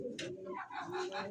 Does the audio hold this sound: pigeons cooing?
yes